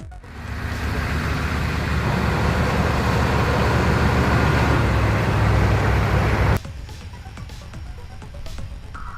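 A Humvee carrying an Avenger air-defense turret with eight Stinger missiles drives past, its engine and road noise a loud steady rumble that drops abruptly to a quieter idle near the end.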